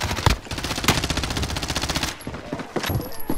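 Rapid automatic gunfire in Call of Duty: Modern Warfare, a loud, dense stream of rounds for about two seconds, then a brief lull and a few more sharp shots close by.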